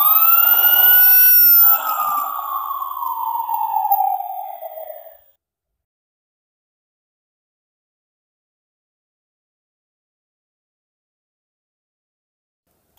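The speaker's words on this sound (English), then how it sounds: "Fire engine." Electronic fire engine siren from a children's sound board book, a loud wailing tone that rises and falls for about five seconds and then stops, followed by silence.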